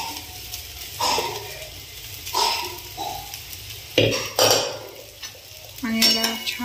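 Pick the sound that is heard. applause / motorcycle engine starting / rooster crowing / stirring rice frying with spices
stirring rice frying with spices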